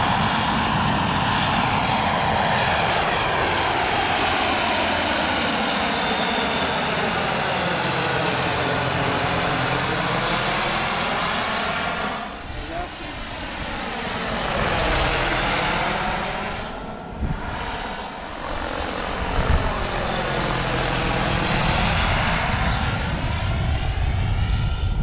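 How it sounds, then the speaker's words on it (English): Engines of full-size aircraft drone loudly and continuously, with the pitch sweeping up and down several times as the planes pass and circle nearby. "You and your damn full-size planes, Todd."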